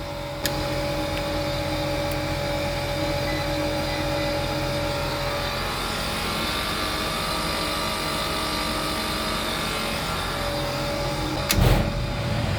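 An air conditioning compressor runs with a loud, steady mechanical hum and whine, ending in a brief clunk and rattle.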